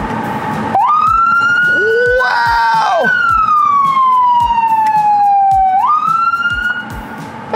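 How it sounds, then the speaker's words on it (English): Loud toy police vehicle siren wailing up and down close by, holding a long sweeping tone before rising again, with a brief exclamation from a voice. "And then we even got the siren."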